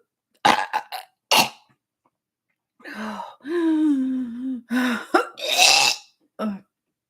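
A few harsh, throaty coughs and hacking bursts close to the mic, followed by strained, groaning vocal sounds and a final short cough.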